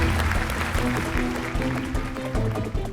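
Audience applause for contestants on a Hindi television game show, clapping layered over loud sustained background music with a steady beat, no speech.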